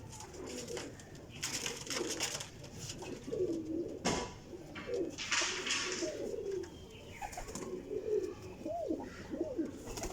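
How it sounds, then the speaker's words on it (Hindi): Teddy golden cross flying pigeons coo repeatedly close by in soft, rolling phrases, with a few chirps and a brief flutter of wings among them. "माशाल्लाह कबूतर सोने जी, अच्छी क्वालिटी के कबूतर ने सारे उड्डन वाले"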